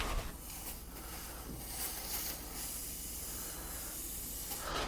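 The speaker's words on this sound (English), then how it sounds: "I'm going to put some more penetrant in here" Penetrant sprayed from a can into the seized engine of a 2005 Harley Davidson Road Glide, a steady close hiss that runs for about five seconds with no talk.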